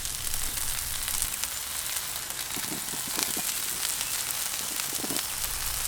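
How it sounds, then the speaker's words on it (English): Continuous crackling sizzle of bacon frying on a Weber Q 3200 griddle, dense and hissy, with occasional louder pops and spits throughout. "Just listen to that sizzle."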